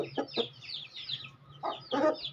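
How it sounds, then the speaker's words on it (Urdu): A rooster in a backyard coop with a pair of fowl gives clucking, crowing-like calls in short bursts, loud and close, with a low steady hum underneath. "یہ مرغا بھی بہت پیارا مرغا ہے یہ والا ماشاءاللہ، دیکھیں کیسے بول رہا"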